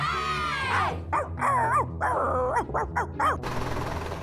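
A dog yips and whines in a string of short, high, rising barks, fairly close, with a low steady hum underneath.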